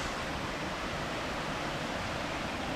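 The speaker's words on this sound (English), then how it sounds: "There's the waterfall." A waterfall near Capron Pond in Smithfield, Rhode Island, pours as a steady, close, full-bodied rushing roar of falling water, unbroken and alone.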